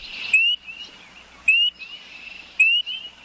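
Frogs call near a house deck: three high chirping calls repeat at even intervals about a second apart, clear and close over a quiet background.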